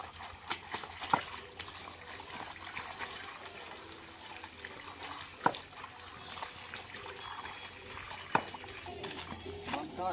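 Water trickles steadily outdoors at a picnic spot, a continuous close wash with a few sharper splashes or knocks scattered through it.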